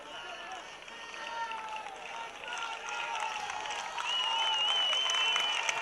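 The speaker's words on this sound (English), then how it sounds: "Waving the shirts and clapping." A baseball crowd in the stands at a Curaçao Neptunus game with two outs and two strikes, clapping steadily, waving shirts and cheering, swelling louder toward the end while a commentator talks over it.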